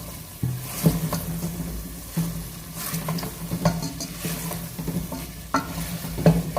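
Mixed vegetables frying over low heat in a pan, a soft steady sizzle broken by repeated scraping stirs of a spoon, close and fairly quiet with no voices.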